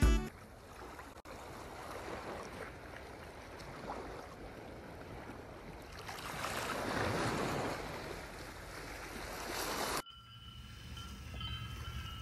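Ocean surf on a Miami beach, a soft broad wash of waves swelling and receding with some wind noise on the microphone, fairly faint and steady.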